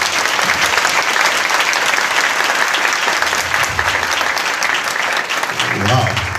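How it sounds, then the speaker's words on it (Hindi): A church congregation claps loudly and steadily for the Lord after a closing prayer, a dense continuous wash of hands lasting several seconds, with a voice rising over it near the end. "एक अच्छी ताली प्रभु के लिए जोर से"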